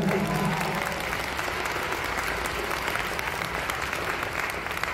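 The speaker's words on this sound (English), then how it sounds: "That's worth a round of applause, ladies and gentlemen." An audience at a fan convention gives a steady round of applause, dense continuous clapping from many hands that fills the hall, with a brief spoken voice at the very start.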